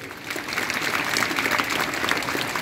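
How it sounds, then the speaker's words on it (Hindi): Steady, dense clapping from an audience at a school speech event, continuous and fairly loud throughout with no break. "ऐसे लोगों के लिए जोरदार ताली बजाइए।"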